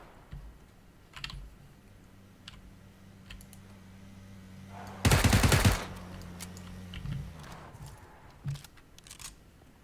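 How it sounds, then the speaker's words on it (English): Gunfire in PlayerUnknown's Battlegrounds, a single loud burst of rapid automatic shots in the middle, with scattered keyboard clicks and a low game hum around it. "Where is he shooting at?"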